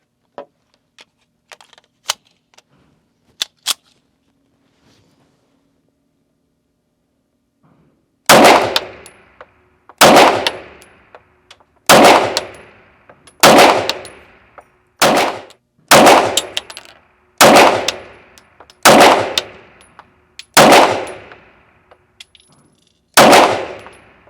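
A Springfield Armory Prodigy 1911 double-stack 9mm pistol firing 124 grain rounds, about a dozen sharp, loud shots at a steady deliberate pace after a few faint clicks.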